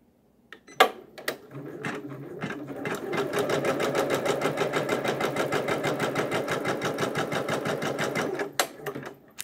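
A Janome embroidery sewing machine starts after a few clicks and button taps, runs with a fast rhythmic clatter for several seconds, then stops, followed by more faint clicks, heard close with no talk.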